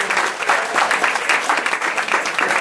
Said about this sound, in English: Let's have a round of applause for all of our bidders and our buyers.